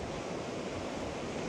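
Ocean waves and strong wind on a remote beach in the west of Ireland, a continuous loud broadband rush of surf with wind buffeting the microphone, no voices.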